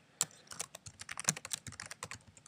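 Quick, steady typing on a computer keyboard at a desk, a dense run of soft, close keystroke clicks with no talking.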